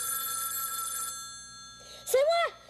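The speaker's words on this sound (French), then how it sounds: "Je suis capable de répondre à notre nouveau téléphone." A new household telephone rings in a children's TV show setting; steady tonal ringing runs for about a second, then fades under a brief bright electronic warble near the end.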